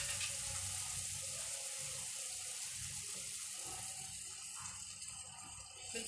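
Water poured into a pan of spiced aloo gobhi masala, a steady close hiss and splash that runs continuously with a faint sizzle beneath, softening slightly toward the end.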